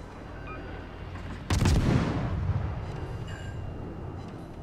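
A naval gun salvo from a warship in World of Warships, aimed at the Kongo: one loud, sharp broadside blast with a long rolling boom that fades over several seconds above a steady low background rumble.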